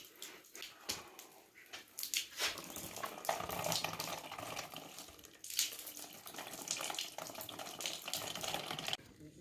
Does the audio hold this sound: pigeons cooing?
no